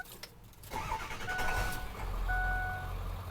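A 2002 Ford Excursion diesel engine cranks briefly, catches and settles into a steady, close idle, with no voices over it.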